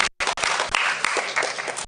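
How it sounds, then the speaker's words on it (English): Audience applause at a symposium on elder psychological wellbeing, a dense burst of clapping that starts after a brief gap and carries on steadily, fairly close and loud. "A round of applause for Dr."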